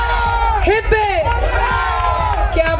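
A crowd at a ring ceremony celebration cheers and whoops with rising and falling voices, shouts over a background of clapping and lively chatter, close and fairly loud.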